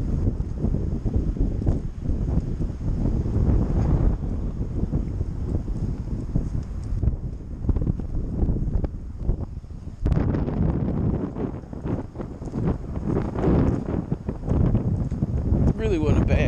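Strong wind gusts outdoors at an urban fishing spot, roaring steadily against the microphone throughout with heavy buffeting and brief lulls, loud and close.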